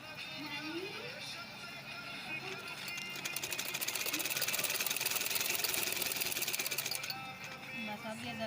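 A sewing machine runs in a short burst of rapid, even stitching, rising to a steady mechanical chatter mid-clip and then stopping, set against quiet room background.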